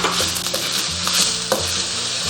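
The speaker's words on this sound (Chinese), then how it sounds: "锅中倒食用油，然后先下入洋葱煸炒，炒香以后，我们下入牛肉粒" Onion and beef cubes stir-frying in hot oil in a wok, a loud steady sizzle broken by repeated scraping stirs of the spatula at regular intervals, close up with no voices.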